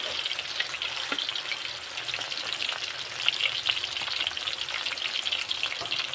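Six pieces of chicken thigh deep-frying in hot oil for fried chicken: a steady, dense sizzle with fine crackling pops that holds at an even level throughout, with no voices.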